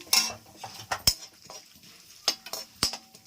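Mustard and fenugreek seeds spluttering in hot oil, heard as scattered sharp pops and crackles that come in irregular bursts against a quiet background.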